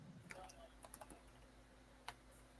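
A computer keyboard clatters faintly in bursts of quick irregular keystrokes. A steady hum sits underneath and there is some low background talk.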